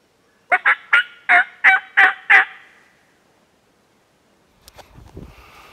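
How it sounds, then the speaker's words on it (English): A wild turkey gobbles in a quick run of about seven sharp, fairly close calls on Iowa public land during a spring hunt, followed by quiet and then faint rustling. "We heard one gobble."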